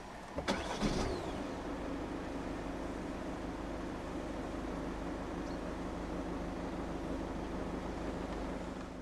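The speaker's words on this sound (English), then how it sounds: "Put your foot on the clutch and press the start button located down the center console." A 2019 Peugeot 308 SW with the 1.5 BlueHDi 130 diesel starts by push button: a short crank, then a faint, steady idle hum heard from inside the car.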